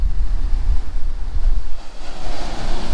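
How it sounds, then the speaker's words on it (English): Ocean surf crashing onto a sandy shore after a winter storm, a steady loud roar of breaking waves with strong wind buffeting the microphone throughout. "there's some good waves"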